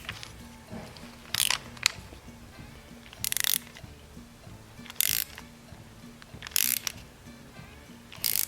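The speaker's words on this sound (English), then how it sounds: "This is how you're going to clamp it together. And now we're going to tighten that down." A clamp is cranked down on a glued homemade shift knob, giving five short bursts of ratcheting clicks spaced a couple of seconds apart, close to the microphone over a faint background hum.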